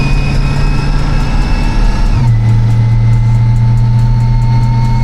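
A supercharged 700 hp Chevrolet Corvette C8 runs on a dyno with a loud, steady engine drone and whine that shifts down in pitch partway through, then holds a constant high-rpm note.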